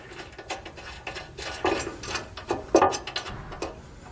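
New bolts are fitted with a ratchet while installing a Roadmaster Reflex steering stabilizer on a 2014 Thor motorhome, giving a series of short metallic clicks and clanks in uneven bursts, close and moderately loud.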